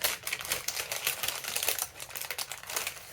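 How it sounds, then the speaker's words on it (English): Paper rustling and crinkling while embellishing a Christmas-themed junk journal, a loud, continuous crackle with irregular bursts close to the microphone throughout, no talking. "Sorry about the rustling, it's very loud."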